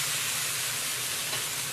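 Tofu skin sizzles in a wok with green and red peppers, scallion, ginger and garlic as it is stir-fried, a steady loud hiss and crackle with no pause.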